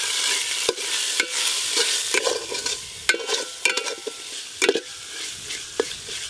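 Ground turmeric, chili and cumin powders with slit green chilies fry among browned onions in a pan for a meatless dum biryani, a steady close sizzle broken by irregular scraping knocks of a spoon stirring, with no talking.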